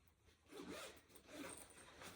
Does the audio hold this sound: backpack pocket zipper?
yes